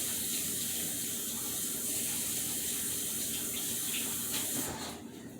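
Steady tap water running into a kitchen sink while a baked potato is washed with soap, a continuous close hiss that drops off near the end.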